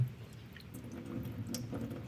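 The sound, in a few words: pouring rinse water off sticky rice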